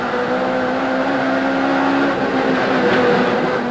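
Touring cars, including an Opel Astra, race at Port Elizabeth in the 1994 South African championship, their engines giving a loud, sustained drone with steady tonal whine.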